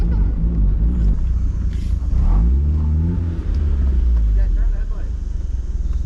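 A 1990s-style Mazda Miata bought cheaply at auction revs its engine up close, a loud rising and falling rumble with a brief throttle blip in the middle, while people talk excitedly over it.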